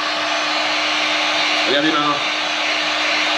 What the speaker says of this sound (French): Donc il faut le faire chauffer avec un décapeur thermique, moi je conseille.